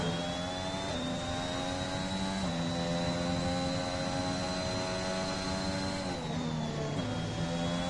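A Formula 1 car engine at Imola in the F1 2021 game, a continuous high-pitched whine with gear-change dips as it accelerates, steady and loud throughout.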